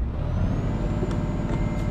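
A heavy truck engine in Euro Truck Simulator 2 rumbles steadily at idle, a loud continuous low drone with a faint high whine on top and no talk over it.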